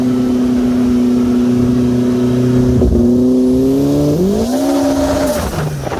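A Troy Lee Pro R side-by-side fitted with a LaRue Performance turbo kit and stand-alone ECU, rated at 425 HP, holds a loud, close, droning engine note on a rolling launch, then dips briefly and surges upward in pitch as it accelerates on sand.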